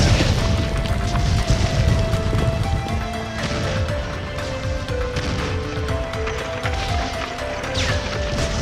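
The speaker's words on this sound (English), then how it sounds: "there was a huge explosion and the roof was destroyed" A booming explosion blowing apart a roof in an animated Mulan story, with crashing debris and clattering impacts rolling on loudly over several seconds, thick low rumble throughout.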